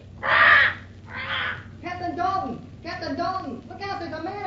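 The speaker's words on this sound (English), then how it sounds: "Drat that bird." Parrot squawks in a radio drama aboard a ship's cabin: two loud, harsh calls up front, then a run of rasping, chattering cries that carry on through the rest of the stretch.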